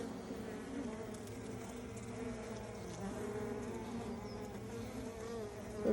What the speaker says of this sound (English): There's the bees doing their thing.